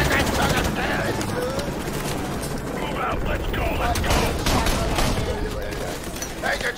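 Rapid automatic gunfire bursts in a Call of Duty game, a dense loud fusillade with mechanical clatter running continuously, with a voice shouting over it.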